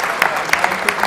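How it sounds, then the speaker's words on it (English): Applause at a Super Mario World speedrun race event, a steady wash of crowd clapping with a few sharper individual claps standing out. "Round of applause again"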